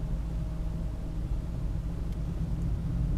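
Steady low rumble of a car cruising slowly at about 30 km/h on a speed-limited road, a constant engine and road drone with no voices.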